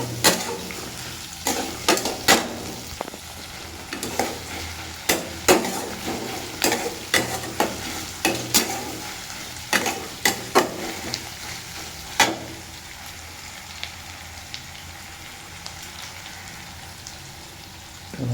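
Meat frying in a pan with irregular stirring clatter: sharp scrapes and knocks over a steady sizzle, busy for the first twelve seconds, then quieter and sparser.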